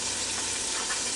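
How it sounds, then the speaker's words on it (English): Ground beef sizzling in a pot on the stove for a beef stroganoff, a steady broadband frying hiss that stays even and close throughout, with no talk over it. "that ground beef is starting to sizzle down in that pot"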